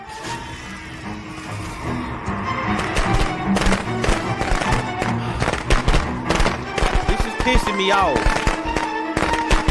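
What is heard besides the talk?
firecracker popping in a video game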